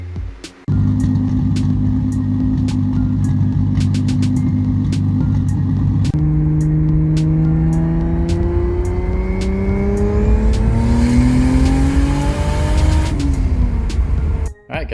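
A 2JZ-engined car with a suspected bad VVTi solenoid starts up and idles steadily and loudly close by, then revs up in a long rising pull before dropping back.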